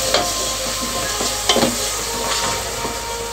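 Garlic paste hits a hot frying pan for a vegetable biryani and is stirred in, giving a steady close sizzle with scraping stir strokes and a couple of sharper clinks.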